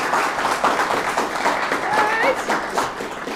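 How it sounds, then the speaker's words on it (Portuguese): Studio audience claps for Tata Werneck on a Brazilian talk show, a dense, fairly loud wash of hand claps that carries throughout with voices and cheers mixed in. "Aplausos pra Tata Werneck"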